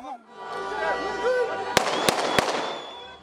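Police fire blank rounds while putting down a riot in Turkey where locals attacked Syrian refugees. Three sharp, loud cracks come in quick succession over a shouting crowd.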